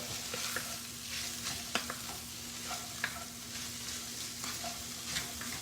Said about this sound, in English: we're going to cook that corn down a little bit